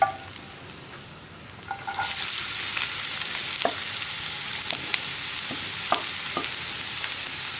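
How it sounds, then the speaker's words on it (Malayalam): Chopped onions sautéing in a pan for an egg curry, a steady close sizzle that swells louder after the onions go in, with occasional soft scrapes of stirring. "ഇനി നമുക്ക് സവോളയുടെ കളർ മാറി വരുന്നത് വരെ ഇളക്കി കൊടുക്കാം."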